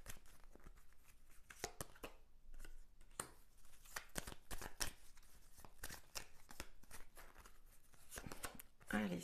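Tarot cards being shuffled ahead of a reading, a soft, irregular run of papery flicks and riffles, fairly close and at a steady low level throughout.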